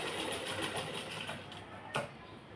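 A sewing machine runs in one steady, continuous burst while stitching a kurti, with a single brief knock near the end and no talk.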